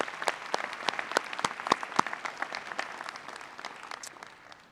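The crowd at a graduate commencement ceremony applauds retiring faculty, a moderate spread of many hands clapping with sharp individual claps standing out, fading gradually toward the end.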